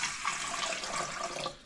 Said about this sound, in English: First we need to pour the water into the bowl.